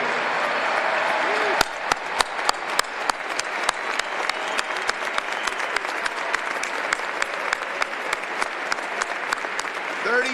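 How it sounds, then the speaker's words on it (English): Large conference audience applauding students at a policy conference, broad sustained clapping with sharp individual claps punctuating the wash; a voice speaks over it briefly. "We want to applaud you."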